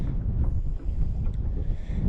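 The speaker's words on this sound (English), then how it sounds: "this wind is ripping and it's only supposed to get worse." Strong wind buffets the microphone in dense, low rumbling gusts during inshore fishing on the water near Jacksonville, Florida, loud and continuous with no voices.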